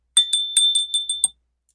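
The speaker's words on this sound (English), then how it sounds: "I like to ring that bell before my readings" A small hand bell rung before a reading gives a quick run of about seven bright metallic rings with one sustained ringing tone, close and clear, then silence.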